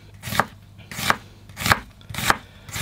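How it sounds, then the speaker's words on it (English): A knife slices an onion thinly on a cutting board in a narrowboat galley kitchen, giving four crisp, evenly spaced chops with a steady rhythm, close and clear, with no talking. "You can slice from the side with the grain basically, and you start off at an angle."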